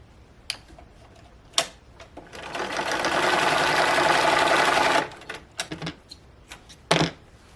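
A home sewing machine stitches fabric corner to corner in one steady whirring run of about three seconds, close up, with scattered handling clicks and fabric rustles before and after.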